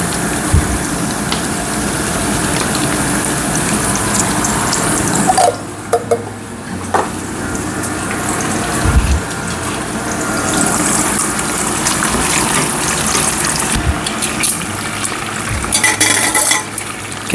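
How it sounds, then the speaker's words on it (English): Beans tipped into a hot pan beside an egg for a breakfast with toutons, a steady loud hiss of frying that dips briefly as the food goes in, then sizzles on continuously. "Let's get our beans in."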